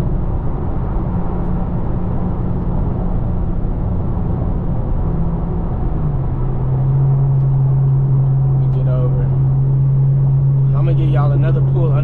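A Chevrolet Camaro's engine drones loud and steady from inside the car on a late-night highway, its pitch stepping with a paddle-shift change partway through, over heavy road rumble.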